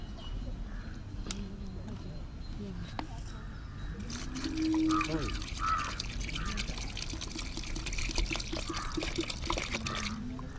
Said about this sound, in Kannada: ಸಗಣಿ ಹಾಕಿದ ನಂತರ ಈಗ ನೀರನ್ನು ಹಾಕಬೇಕು.